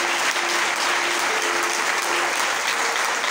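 Congregation at a church service applauding and acclaiming Jesus, with steady, dense clapping from a crowd filling the room at a constant loud level, a faint sustained tone running underneath.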